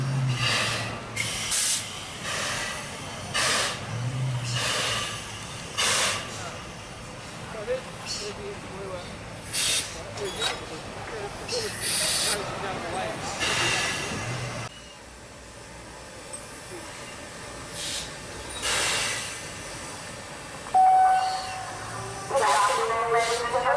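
Steam locomotive 2705 reversing onto its train at a heritage railway gives repeated sharp bursts of escaping steam and hissing, loud and close, with rhythmic chuffs and a brief whistle-like tone near the end.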